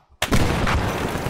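Frag grenade blast in ARMA 3, a sudden loud, close boom after a brief quiet moment, with a rumbling tail that decays over about a second.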